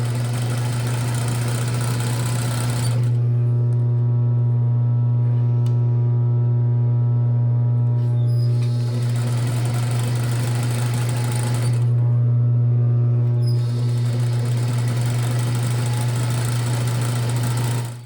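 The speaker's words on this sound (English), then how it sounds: "I'm going to hold my finger down in the middle and continue stitching." Sewing machine stitching elastic onto spandex swimwear, a steady loud motor hum running in two long bursts with a brief pause between, no talking.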